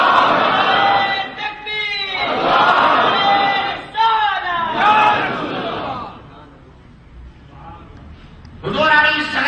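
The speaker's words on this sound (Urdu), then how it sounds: "آپ کے نعرے کی آواز بڑی بلند ہے، بڑی مدم ہے" A crowd in a mosque shouting religious slogans in unison, loud repeated bursts of massed voices answering a leader, with a quieter pause before another shout rises.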